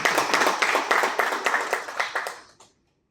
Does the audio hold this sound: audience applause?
yes